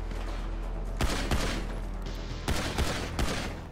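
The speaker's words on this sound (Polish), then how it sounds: "Wo, co to za eksplozje?" Explosions and gunfire in GTA Online sound as sharp bursts in clusters, loud booming blasts and rapid shots over a constant low rumble of game background.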